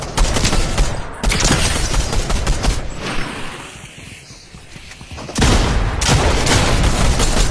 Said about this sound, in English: I'm getting shot from everywhere.